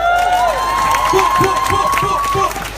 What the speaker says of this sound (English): You can give me a round of applause for that.